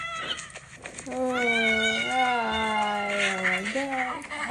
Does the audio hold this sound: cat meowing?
yes